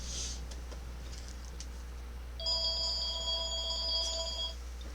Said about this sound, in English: And there goes the dang phone again